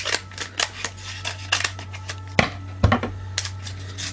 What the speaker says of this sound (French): Ah, les ciseaux. Qu'est-ce que c'est génial.